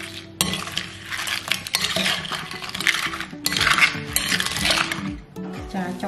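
A utensil stirs blue crab salad dressed with fish sauce in a bowl, giving repeated scraping, clinking and wet sloshing strokes, fairly close and uneven in rhythm, with no talk.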